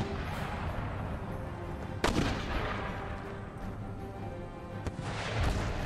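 Mortars firing shrapnel on a battlefield in the strategy game Empire: Total War. A steady din of distant battle noise runs throughout, broken by a few sharp booming shots at intervals.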